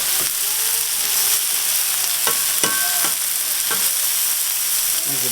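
Vegetables and shrimp sizzle steadily on a hot hibachi griddle, a close, continuous hiss broken by a few sharp spatula scrapes and clicks, with no talking.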